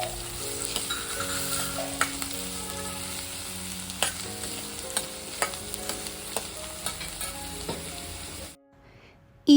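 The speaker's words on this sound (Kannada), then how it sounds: "ಆನಿಯನ್ ಸ್ವಲ್ಪ ಗೋಲ್ಡನ್ ಬ್ರೌನ್ ಆಗೋ ತನಕ ಇದು ಫ್ರೈ ಆಗಬೇಕು." Chopped onion fries in a pan toward golden brown. The sizzle is steady and close, with light stirring taps and a faint background hum, and it drops out to near silence just before the end.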